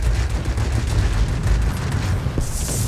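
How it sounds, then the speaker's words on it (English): Dense, continuous rapid gunfire from an aircraft's guns during a strafing run in World of Warplanes, a loud, unbroken rattle lasting the whole moment. "You get single strafing run."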